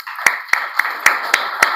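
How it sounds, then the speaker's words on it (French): Sharp, evenly spaced claps ring out about four times a second during a members' association gathering, six crisp hits in a steady rhythm with a faint room hum between them and no talking. "je vais vous demander de vous lever pour qu'on puisse vous applaudir"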